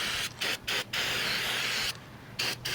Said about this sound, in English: I'm going to take this caliper bracket, I'm just going to clean it up with a little brake cleaner